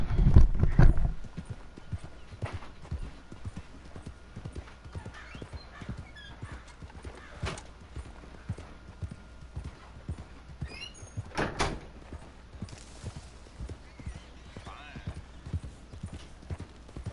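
Steady clip-clopping horse hooves in Red Dead Redemption 2, with an even walking rhythm, a louder thump at the start, and occasional faint background voices.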